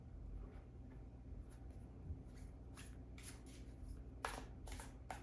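A tarot deck shuffled by hand, soft papery riffles and flicks building from faint to a few sharper card bursts near the end, close but quiet over a low steady hum.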